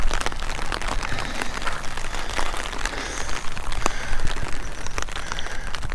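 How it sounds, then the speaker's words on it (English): Rain falls steadily and fairly hard on a gloomy day, a dense close patter of drops striking surfaces, continuous and loud, with no talking. "It's actually starting to rain harder."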